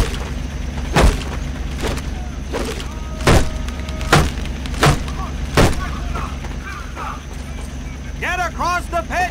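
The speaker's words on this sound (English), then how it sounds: "Hit those dummies with the butt of your rifle." A rifle butt strikes training dummies at a Medal of Honor Pacific Assault boot camp, giving sharp, evenly spaced woody thwacks over a steady low drone, with birdlike chirps near the end.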